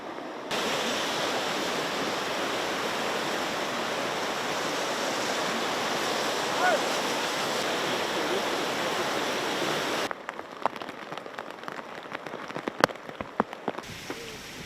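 Heavy rain hisses steadily and loudly over flooded ground near an overflowing river in Mauritius. Around ten seconds in it gives way to quieter, scattered drips and knocks.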